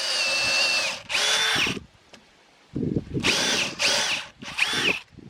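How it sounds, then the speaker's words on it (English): Power drill boring a hole into a heavy timber knee brace with a Forstner bit, in loud whining bursts with short pauses between them and a faint pitch sweep as the bit bites. "Get it started, get it to the depth of the Forstner bit"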